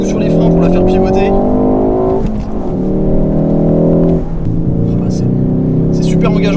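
A 2019 Ford Focus ST corners hard, braking and pivoting, its engine roaring loud and close with pitch dips and surges as it slows and powers out again, someone talking over the noise.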